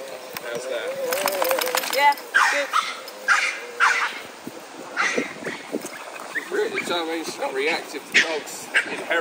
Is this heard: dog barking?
yes